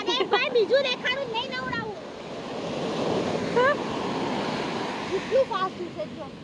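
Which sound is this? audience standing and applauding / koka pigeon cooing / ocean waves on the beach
ocean waves on the beach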